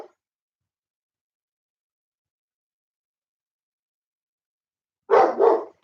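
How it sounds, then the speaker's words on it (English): A dog barks twice in quick succession near the end, fairly close and loud, after a long stretch of near silence. "Y'all hear my dog?"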